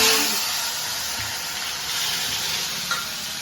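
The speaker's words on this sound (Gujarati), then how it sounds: "હવે આપણે નાખશું હિંગ, લસણ, ટામેટા" Asafoetida, garlic and tomato go into hot oil with cumin and sizzle loudly, a dense steady hiss close by with a faint stirring scrape, no voices.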